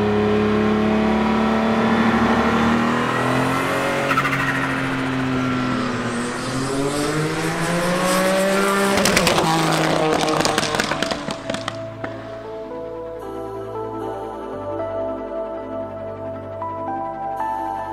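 Porsche 911 GT1 EVO race car, a lightweight six-speed manual racer, driven on a public road: a loud, close engine drone rises and falls through gear changes, swelling to a hard revving peak before dropping to a lower, uneven idle-like rumble.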